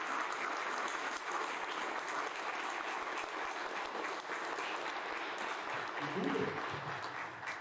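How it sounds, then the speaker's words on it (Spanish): Steady applause from a church congregation, a dense continuous clapping that fills the whole clip at moderate distance, with a voice briefly heard near the end. "Entonces usted denle un aplauso, se lo va a dar"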